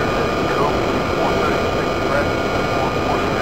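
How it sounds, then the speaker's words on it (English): Lufthansa A340-300 jet engine in Flight Simulator 5.1, a loud, constant cabin drone with a steady whine and broadband roar, unbroken throughout. "Unfortunately, I don't think there's a way to turn down the volume of the engine itself."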